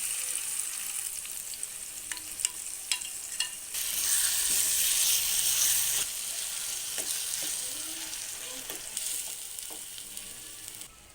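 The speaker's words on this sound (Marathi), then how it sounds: "आता यामध्ये कुस्करून घेतलेली वांगी मिसळून घेणार आहोत" Mashed eggplant being stirred into a frying pan, steady sizzling throughout with occasional scraping strokes of a spoon, a louder burst of frying midway, close and without speech.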